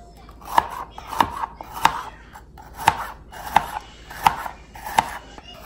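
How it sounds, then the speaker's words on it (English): A knife chops through a slightly ripe bitter melon (ampalaya) on a board in seven sharp, evenly spaced strokes about every half to one second, each one a crisp close knock, with no talking. "slice it in the middle"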